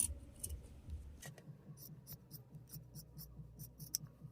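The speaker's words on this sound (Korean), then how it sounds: "이렇게 시접 이렇게 좀 잘라내 주세요." Scissors snip through fabric, trimming the thick seam allowance at the corners of a sewn chicken-shaped cushion; a quick, steady run of close, crisp cuts.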